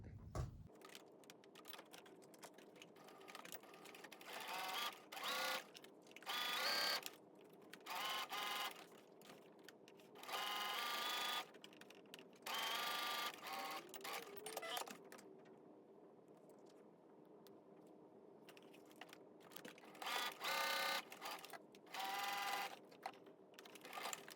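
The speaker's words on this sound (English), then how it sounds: "now I'm just going to stitch all along the top and all along the bottom" Home sewing machine stitching along the top and bottom edges of a fabric face mask with a filter pocket: repeated bursts of fast, close mechanical whirring and needle chatter, each lasting a second or two, separated by quiet pauses.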